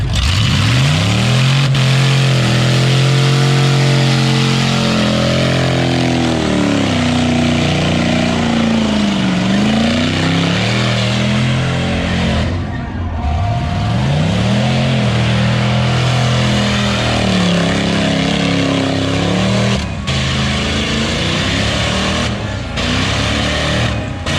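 A car engine at a burnout competition at Cleetus and Cars Bradenton 2022, revving loud and close without a break, its pitch climbing and falling through repeated throttle sweeps and held high runs.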